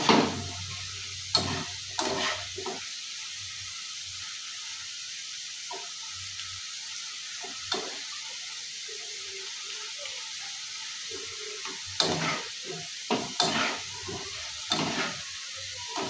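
Masala dhoka frying in a pan, a soft steady sizzle broken by several sharp stirring scrapes and clinks, with quiet stretches between bursts of activity.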